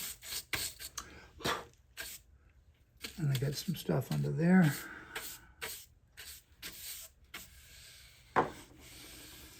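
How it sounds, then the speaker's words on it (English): Sanding a carved wooden top brace for a guitar, with short, close scratchy rubbing strokes in irregular bursts, and someone talking briefly in the middle. "I'll do a little more final sanding."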